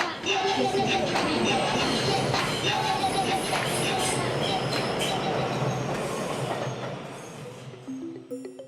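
A New York subway train rumbles along close by, wheels clattering and screeching over the rails in a loud, steady roar that fades slightly toward the end.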